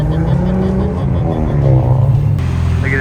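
A loud, close Veilside RX-7 engine rumbles and revs, its deep exhaust note rising and falling, with a sharp flame-spitting pop near the end.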